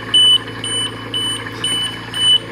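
An oxygen concentrator sounds its low-purity alarm, a loud, piercing electronic beep repeating five times at even intervals over a low machine hum.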